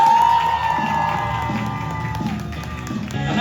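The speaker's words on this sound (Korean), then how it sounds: "우리 코미디언분들에게 다시 한번 큰 박수 부탁드리세요." An audience applauds and cheers for comedians at a live comedy show, with crowd noise and scattered whoops over a steady musical tone.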